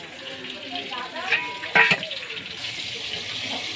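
Starchy water poured off a pot of cooked rice: a steady splashing, draining wash with a couple of louder clatters from the pot partway through.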